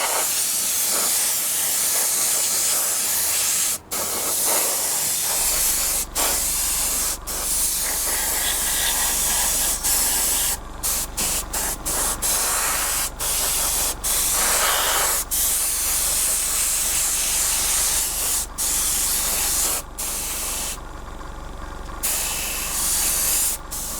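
An airbrush sprays a misty paint coat onto a 1/48 Tamiya Supermarine Spitfire Mk.I model, a loud continuous hiss broken by brief stops and short bursts.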